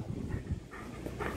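A Rottweiler meeting an unfamiliar dog at a fuel station pants in quick, close, rough breaths with faint whimpering whines mixed in, fairly quiet and brief.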